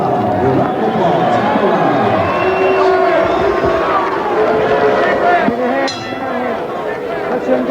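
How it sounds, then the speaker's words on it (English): Boxing arena crowd cheering and applauding before the twelfth and final round of a 1991 USBA title fight, a loud continuous roar of voices with shouts and whistles, and an announcer's voice over it. "Your round of applause."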